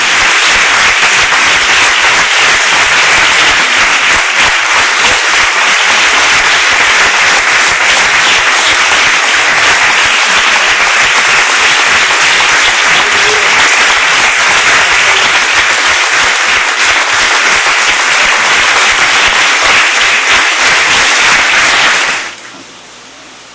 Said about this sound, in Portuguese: Vamos dar mais uma linda salva de palmas para o Senhor Jesus?